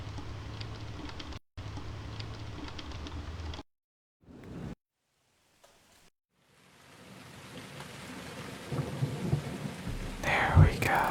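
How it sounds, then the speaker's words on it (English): A thunderstorm with heavy rain, steady rainfall broken by brief silent gaps, then swelling again with rumbling thunder that builds louder toward the end, with no voices. "Thunder."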